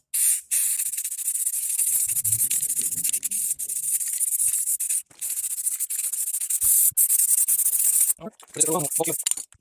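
Spray paint hissing onto the inside of a rear spring box on a J20 truck, several long steady bursts separated by brief pauses, loud and close.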